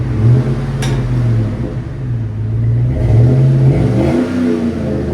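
Chevy Tahoe 5.3-liter V8 with a Flowmaster 40 Series exhaust revving up and settling back in a couple of deep, throaty pulls, loud and close, with no talking.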